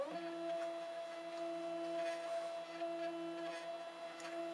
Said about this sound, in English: those are axis movements on this machine